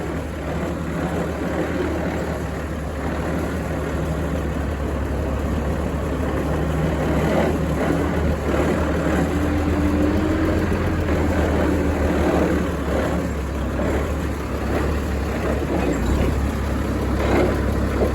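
A wide paving machine's engine drones steadily and loudly at close range, a constant low rumble with faint mechanical clatter over it, with no talking.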